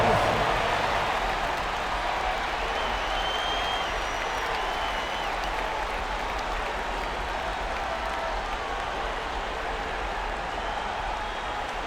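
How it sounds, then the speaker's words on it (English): Arena crowd at a Lakers vs Timberwolves NBA playoff game applauding, a sustained, even roar of clapping and crowd noise that holds steady throughout, with a voice faintly present underneath. "Give yourself a big round of applause."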